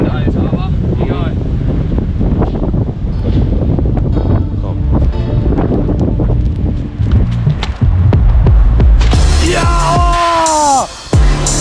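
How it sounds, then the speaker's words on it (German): Strong wind buffets a microphone outdoors in Scotland, a loud steady roar running throughout with clattering and rustling, while people talk over it and an excited voice breaks in near the end. "Voll der Wind, Alter, aber egal"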